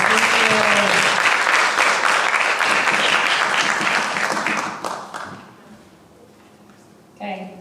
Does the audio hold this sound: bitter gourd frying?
no